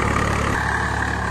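A Swaraj 855 FE tractor drives a 7-foot rotavator through a field, its engine a loud, steady, continuous rumbling drone with no talk over it.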